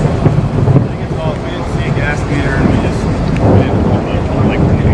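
Thunder from a nearby lightning strike during a fire call in Oklahoma City rolls as a loud, continuous rumble for the whole stretch, with wind buffeting the microphone and faint radio chatter underneath.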